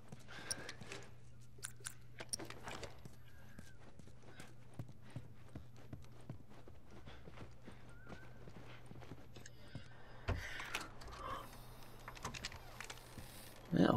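Faint hollow hoofbeats of a horse in the video game The Last of Us clip-clop steadily at a distance over a low hum, with a brief louder burst near the end.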